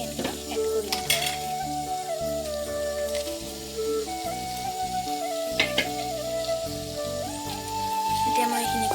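Chopped chicken tipped into a pan with onions and garam masala for chicken momo filling, sizzling steadily as it is stirred, with scraping knocks and clatters throughout.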